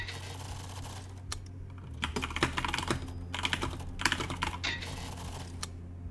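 Rapid typing on a computer keyboard during a game of Final Sentence, a dense clatter of close key clicks over a steady low hum.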